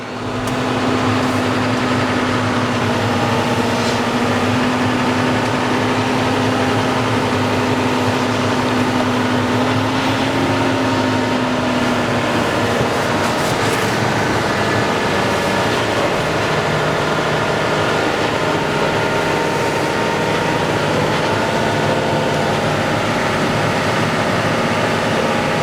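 Tractor engine droning steadily up close throughout, a continuous rumbling hum with a tonal whine that fades partway, on a sand motocross course at Loon-Plage.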